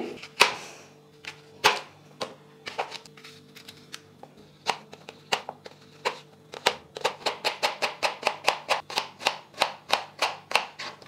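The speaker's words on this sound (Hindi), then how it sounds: "चलें अब हम एप्पल काट लेंगे।" A knife cuts an apple on a board, heard as sharp, close chopping taps. They start sparse and irregular, then speed up into a quick, steady run of even strokes.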